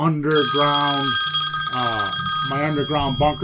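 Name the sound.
telephone ringing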